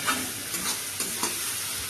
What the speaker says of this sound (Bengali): পেঁয়াজ লাল লাল করে ভাজা হয়ে গেছে